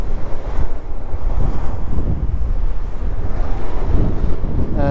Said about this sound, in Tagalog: Grabe, lakas ng alon ngayon